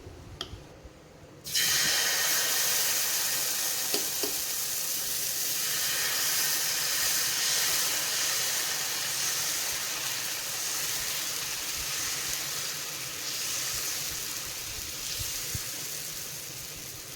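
A loud, sudden sizzle as pearl millet dosa batter hits a hot pan, settling into a steady close hiss that continues throughout.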